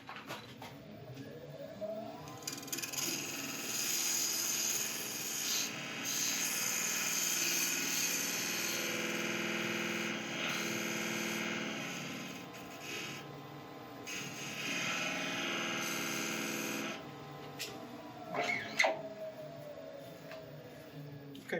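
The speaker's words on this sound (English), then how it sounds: "then I'll sand and polish the inside" Sanding and polishing the inside of a resin and wood piece spinning on a lathe: a loud, steady broadband rushing whir that holds for most of the stretch, with a hum underneath, dips briefly around the middle and drops off near the end.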